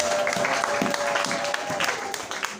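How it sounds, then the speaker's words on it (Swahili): A church congregation claps for the Lord in steady, full applause, with voices and a sustained musical tone carrying beneath the clapping. "Kama unayo amani unaweza kumshangilia Bwana kwa makofi"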